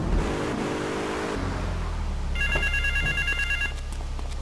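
A telephone rings in the GTA III video game, its repeated electronic trill arriving partway through over a steady low car engine rumble, fairly loud and with no talking.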